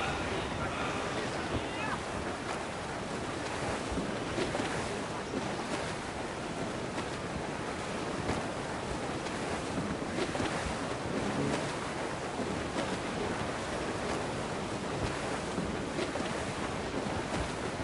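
A sailing ship at sea in Assassin's Creed IV Black Flag, with steady rushing waves and strong wind noise under a crew's shouted commands throughout.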